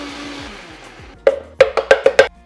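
A blender with a quarter pineapple and fresh orange juice for a sweet citrus dressing runs in several short, loud pulses after a quieter stretch, each burst starting sharply and cutting off.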